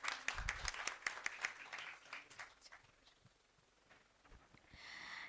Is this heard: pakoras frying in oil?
no